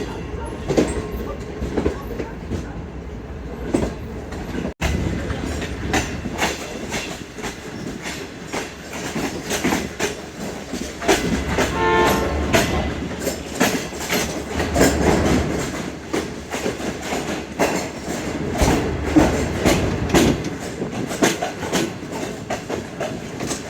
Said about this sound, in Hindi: orange line train